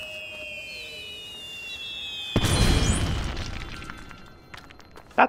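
A blocky explosion bursts in Lego Harry Potter, a sudden loud broadband boom that rolls off over a couple of seconds, preceded by sustained synthetic whistling tones and followed by scattered small pops.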